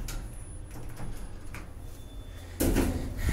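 A cheap Consus-installed sword traction elevator in Bat Yam Mall, its door operator slightly faulty, runs its door with a low mechanical rumble and scraping, ending in a louder, fuller clunk and slide near the end, with no talk.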